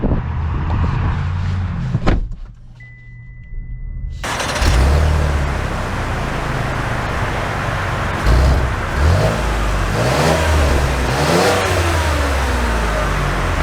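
A 2024 Cadillac XT6 Platinum Sport pulls away, with a door thud and a brief lull before the engine revs up and accelerates, holding a loud, close, rising mid-pitched roar with shifting tones.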